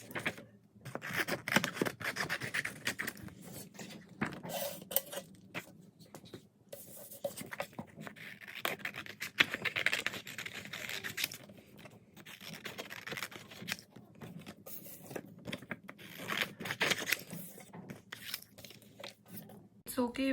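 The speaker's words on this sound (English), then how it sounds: "So you can just cut them according to the size of these circles." Printed photographs being cut into circles with scissors for a DIY photo dream catcher, a steady run of close, crisp snipping and paper rustling lasting throughout, with no talking.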